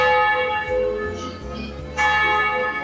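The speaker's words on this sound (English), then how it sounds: "Just listen to those church bells. We're right outside the cathedral." Church bells ring loudly just outside a cathedral in a small town on the Rhône, rich overlapping tolls with long sustained hum, the strokes swelling and renewing near the start and again toward the end.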